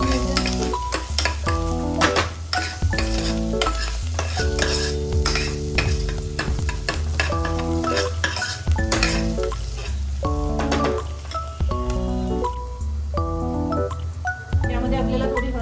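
Ginger and garlic sauté in a small amount of oil for a mushroom soup, with a steady sizzle and repeated stirring scrapes under continuous background music.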